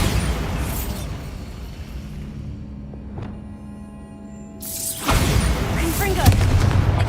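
Bombarda explosion spell cast in the video game Hogwarts Legacy, a deep boom with a short sharp burst amid dense combat sound effects, followed by loud broadband blasts and crackling debris.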